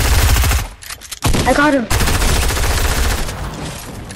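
Rapid bursts of video game gunfire crackle loudly through most of the stretch, with a player's voice speaking briefly over a short lull near the middle.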